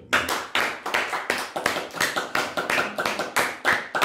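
Congregation at a church praise service clapping in a steady rhythm, a dense, lively burst of many hands repeating roughly every half second, fairly close and loud, with no talking over it.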